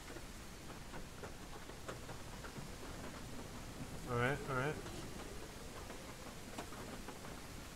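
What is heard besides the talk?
rain falling in a zombie survival video game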